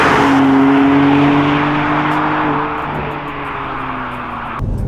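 A BMW M2 Competition on the road, heard from inside the cabin: a steady, loud engine drone with clear tonal harmonics that slowly drop in pitch as the car eases off, with no talking.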